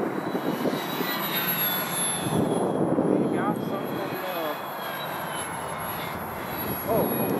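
A CCM Riddick 1.2 m RC flying wing model on its maiden flight, a thin steady electric motor whine droning overhead under outdoor wind, with a voice speaking nearby.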